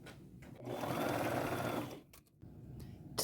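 A sewing machine runs a straight-stitch seam on lace, whirring loudly in one sustained burst of about a second and a half, with quieter handling noises before and after.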